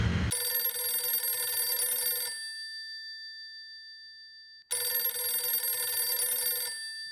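A telephone rings in two long, loud bursts separated by a pause of about two seconds, its bright metallic bell tone ringing steadily with no voices over it.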